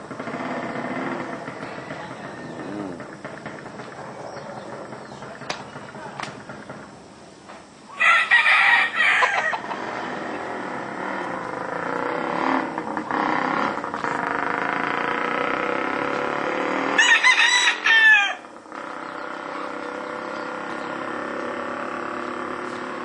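A rooster crows twice, loud and close, among clucking chickens in a yard, with background noise running throughout.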